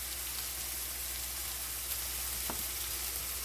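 Home fries frying in a pan, a steady soft sizzle with faint crackle over a low background hum, no talking.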